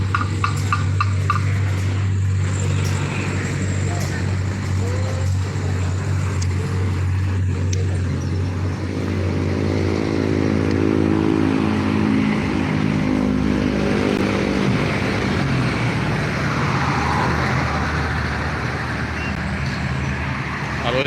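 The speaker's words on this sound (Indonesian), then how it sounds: "Lalu lintas lumayan ramai." Busy road traffic near Palembang streams past continuously, with loud engine drone, tire roar and vehicles passing close by, and a deep rumble underneath throughout.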